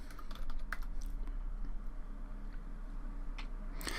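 Quiet clicks and taps on a computer keyboard as a material name is typed into 3D modeling software, a short burst of keystrokes heard alone with no voice.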